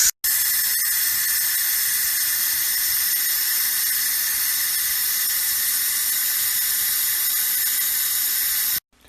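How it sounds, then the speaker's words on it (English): Cold tap water runs steadily over beans in a colander, a bright, constant hiss that starts sharply, holds for several seconds and stops abruptly. "take your fanciest colander, rinse the beans under cold water"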